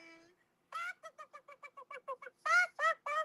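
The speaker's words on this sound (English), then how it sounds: "Hey, Crystal's chickens." A series of short, evenly spaced clucking calls from fowl, building to a few louder squawks at the end, close and clear.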